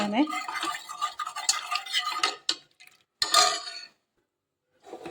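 Chopped vegetables tipped into a pot of cooked dal, a busy run of clattering, scraping stirs and metallic knocks close up, then a brief pause and a final burst of clinking.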